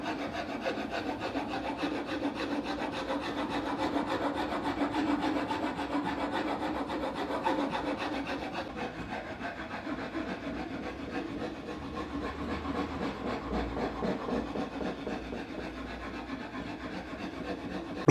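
Hand rasp rounding over a wooden edge by hand in a woodworking setting, a steady continuous scraping and rubbing that runs the whole time, close and moderately loud with no talk.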